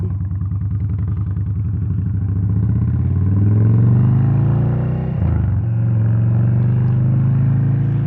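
An Indian Chief motorcycle engine rumbling as the bike pulls out and rides off, a loud, close, steady low drone that rises in pitch, dips briefly and then picks up again.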